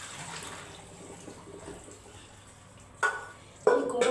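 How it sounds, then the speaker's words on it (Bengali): Boiled potatoes poured into a pan for a Bengali potato-poppy-seed dish, heard as two short splashy bursts near the end after quiet kitchen rustling. "এবার আলুগুলো আমি ঢেলে নিচ্ছি।"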